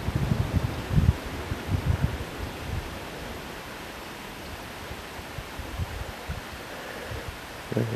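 Wind gusting across a beaver pond in Maine, a steady broad rush with low buffeting thumps against the microphone, strongest early on and then settling into a constant blustery hiss.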